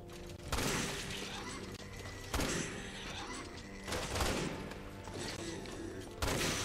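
Sniper rifle shots in the Resident Evil 6 video game: four loud, sharp cracks spaced a second or more apart, each ringing out over a busy, constant game soundscape.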